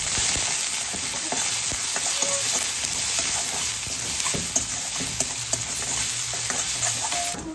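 Finely chopped garlic and ginger sautéing in a pan with onion for veg manchurian, a loud steady sizzle broken by scraping stirs of a spatula, with no talking.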